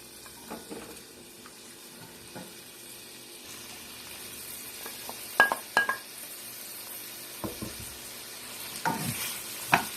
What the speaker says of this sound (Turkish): yeşil fasulyelerimi ilk önce tenceremde iyice kavuruyorum